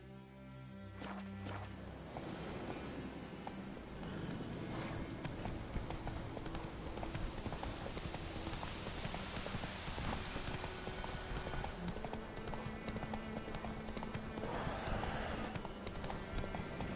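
Horse hooves clip-clop steadily at a walking pace in The Witcher 3: Wild Hunt, a continuous rhythmic clatter under game music and ambience, fairly quiet overall.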